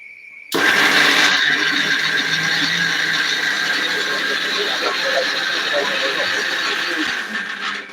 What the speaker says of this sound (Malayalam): അപ്പൊ നമുക്കത് ജസ്റ്റ് ഒന്ന് മിക്സി വെച്ച് നന്നായിട്ട് അരപ്പ് ഉണ്ടാക്കാം കേട്ടോ